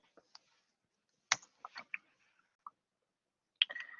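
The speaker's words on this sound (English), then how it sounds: "we're gonna type in café." Someone types on a computer keyboard, producing sparse, quiet clicks and a brief quick burst of keystrokes in an otherwise silent room.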